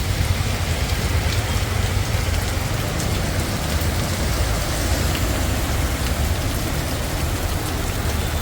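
Steady downpour pours outside a shop in a market street in Thiruvananthapuram, Kerala, a dense, even hiss of rain drumming on surfaces with a low rumble underneath, loud and continuous throughout with no talking.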